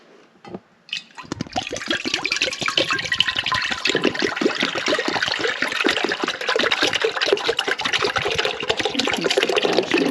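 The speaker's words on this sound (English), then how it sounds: "I'm just going to pour my milk in." Goat milk pours steadily into a pot on an electric stove, a continuous splashing liquid stream that starts after a brief quiet moment and runs loud and close to the end.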